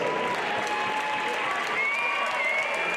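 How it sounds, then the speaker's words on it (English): Crowd applause for two fighters after a combat sports bout, a continuous even roar of clapping with some crowd noise and faint cheering mixed in, filling the whole moment. "let's give both these fighters a big round of applause"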